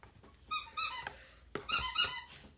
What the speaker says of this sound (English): My dog is up and he's at it.